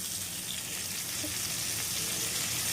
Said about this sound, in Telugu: ఇదిగోండి మీ పోపు చిట్పట్లాడడం మొదలెట్టిందండి